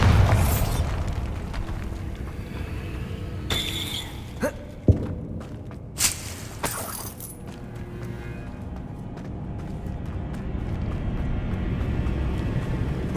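A Bombarda spell explodes in Hogwarts Legacy, a series of deep booms and sharp bursts between roughly three and seven seconds, then a rumbling debris-filled tail settling into low ambient noise.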